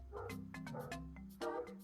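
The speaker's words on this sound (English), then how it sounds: "She's really barking" A pet dog barking and yipping in another room, faint and muffled, several short barks in quick succession with a small whimpering quality.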